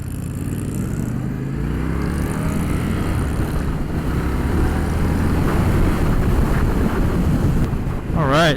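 An Indian Scout 101 motorcycle runs at about 45 mph, its engine drone rising in pitch under heavy wind rush against the microphone. The sound is loud and continuous.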